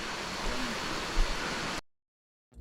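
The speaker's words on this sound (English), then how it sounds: "ahead is the waterfall. It just comes into view where you can see the water falling" Waterfall at Blue Basin, Trinidad, producing a steady broadband rush of falling water for under two seconds before cutting to silence, with no talk.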